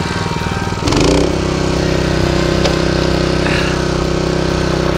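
A Honda HS 622 snow blower engine starts up and settles into a steady, loud, close mid-pitched running drone with a constant hum that continues to the end.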